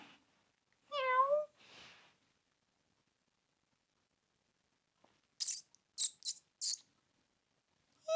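A single drawn-out meow rises and falls, followed after a pause by a few short, high chirping calls in an otherwise quiet room.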